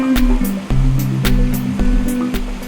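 Steady rushing creek water fills the clip at a campground creek edge in Shenandoah, loud and close, with a constant churning wash and occasional brighter splashes, and no voices.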